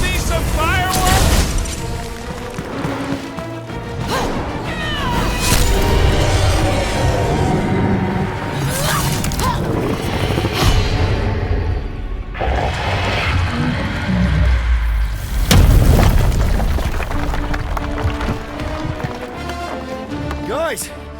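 Explosive booms and rumbling blasts from the Marvel's Guardians of the Galaxy video game, loud and dense, amid a busy mix of heavy impacts, running effects and character voices.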